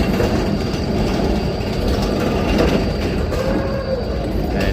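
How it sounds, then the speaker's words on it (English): A Melbourne tram rolls past close by in a city street, a loud continuous rumble of wheels on rails with metallic clatter and mechanical hum, steady throughout with no voices. "as one of Melbourne's iconic trams"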